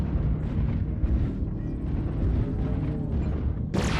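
Airstrike explosions in a competitive video game match, a dense, continuous low rumble of booming blasts and eruptive bursts across the whole stretch, loud and sustained, ending with a sharper crackling burst.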